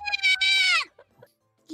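One drawn-out, whiny meow sounds up close, a voice imitating a cat, followed by brief quiet.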